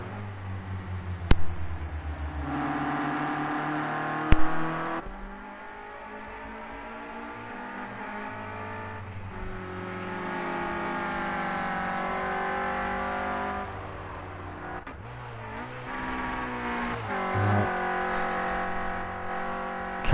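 Renault Clio Cup race cars on an out lap warming their tyres, engines revving and shifting through gears at moderate volume, with occasional sharp clicks and passing engine notes rising and falling throughout.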